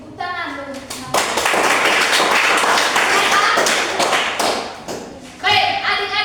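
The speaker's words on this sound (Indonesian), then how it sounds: "Oke, tepuk tangan dulu." A group of children clap together in a burst lasting several seconds, loud and close, with a voice before and after the clapping.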